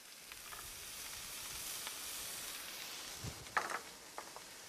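Onions and green pepper sizzle in bacon grease in a pan, a soft, steady frying hiss with a few faint clinks and stirring scrapes, no voices.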